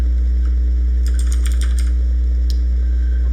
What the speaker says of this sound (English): So let me go up here and start typing some code.